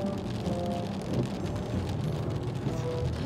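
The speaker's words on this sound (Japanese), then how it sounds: "天気が悪化してきてね、めっちゃ雨降ってるしさ" Heavy rain pours steadily at a Japanese open-air hot spring during a stormy, foggy spell, a dense continuous hiss close by with no speech.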